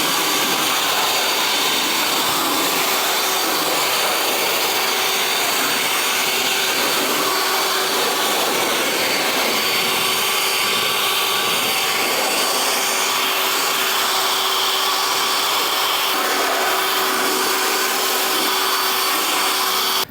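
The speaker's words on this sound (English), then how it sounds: "we're just going to get the leaf blower out, dry this down" A leaf blower dries off a car after a bug and dirt removal wash, its steady, loud whooshing airflow running alone and unbroken throughout with a constant motor whine.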